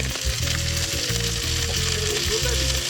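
Cheese and chorizo sizzle and fry in a hot pan outdoors at a van life festival, a steady close crackling hiss with scraping stirs on top.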